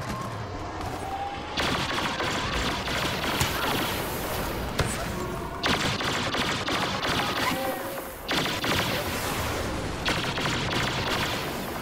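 Gunfire in the video game Star Wars Battlefront: dense, continuous bursts of blaster and gun shots with rapid crackling volleys and heavy thumps, loud and close, with a voice talking over the combat.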